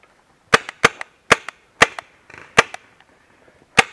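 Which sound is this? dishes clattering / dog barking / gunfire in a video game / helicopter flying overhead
gunfire in a video game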